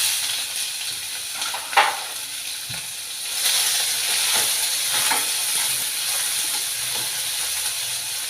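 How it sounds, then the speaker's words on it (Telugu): Chopped onions frying in a pan until brown, a steady hissing sizzle that grows louder partway through, with occasional clinks and scrapes of stirring. "ఇది బ్రౌన్ కలర్ వచ్చినంత వరకు వేయించుకోవాలి."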